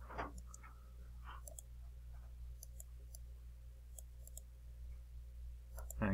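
Computer mouse clicking while working at a desk, a few sharp faint clicks scattered over a quiet steady hum, no talking.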